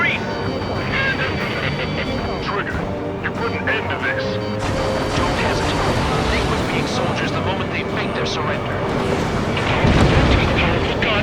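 A rail cannon is destroyed in the aerial combat video game Ace Combat 7. Heavy, rumbling blasts and booms roll continuously with jet engine roar, loud and dense, as voices talk over the din.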